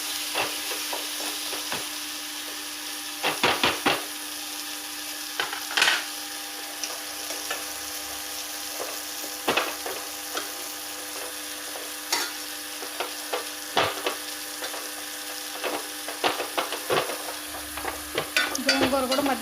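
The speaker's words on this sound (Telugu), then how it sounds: "గోంగూర కూడా మధ్య మధ్యలో కలుపుకుంటూ ఉండాలండి." A gongura and tomato curry fries in a pan, making a steady sizzle broken by repeated scraping and clattering strokes from a spoon as it is stirred up close, with no talking.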